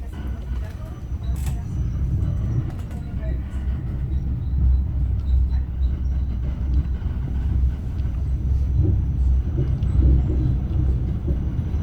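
A tram rides through Vienna with a steady low rumble and rolling rail noise throughout, heard from inside under ongoing talk.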